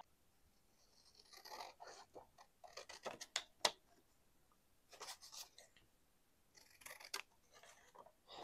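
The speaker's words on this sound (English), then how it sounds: "I'm going to cut this ticket out" Scissors cutting a paper ticket out for a handmade envelope craft, heard as faint, close snips in small clusters separated by quiet pauses.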